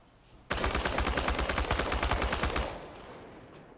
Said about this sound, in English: This exercise is about using full auto mode and emptying an entire magazine in one burst.